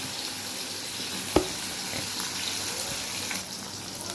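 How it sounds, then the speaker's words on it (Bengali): Eggplant pieces fry in hot oil in a home kitchen pan, giving a steady, close sizzle and crackle with one sharp clink partway through. "এবার এর মধ্যে একটু বেগুনগুলো ভেজে নেবো।"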